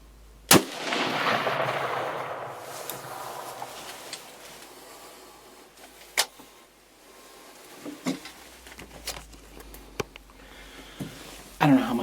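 A single sharp rifle shot at a deer during opening-day firearms hunting in Michigan cracks out loud near the start, followed by faint outdoor rustling, a few small knocks and clicks, and another short bang near the end.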